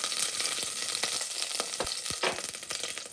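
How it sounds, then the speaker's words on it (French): Chopped onions fry in oil in a cooking pot for biryani, producing a continuous close sizzle with scattered crackles and occasional stirring clicks, loud and without speech. "Je fais revenir mes oignons"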